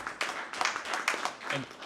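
Applause at a county elected officials meeting, a small group clapping briefly and fairly close, with voices mixed in around the clapping.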